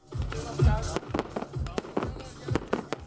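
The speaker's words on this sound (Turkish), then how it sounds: "Geceyi meşaleli kayak ve havai fişek gösterileri aydınlattı" Fireworks burst over a torchlit ski event in sub-zero cold, a rapid irregular series of booms and crackles, some deep and rumbling, others sharp pops, with faint crowd noise underneath.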